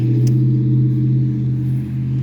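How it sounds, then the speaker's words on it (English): A loud truck passes close by outside a front garden, a deep steady engine rumble with a strong low drone that holds throughout and dips briefly near the end. "Loud truck."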